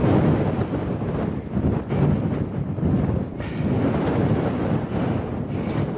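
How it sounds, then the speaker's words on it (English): Strong wind gusts buffet the open summit of Mount Franklin, roaring loud and continuous against the microphone with surging peaks. No one speaks. "We're getting some good wind gusts now."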